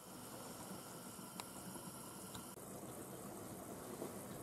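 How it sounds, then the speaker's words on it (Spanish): Homemade tomato sauce simmering covered in a pot on low heat, a steady, even bubbling hiss that holds at constant level throughout, with a couple of faint clicks and no talking. "Lo tapamos y tiene que estar una hora a fuego lento."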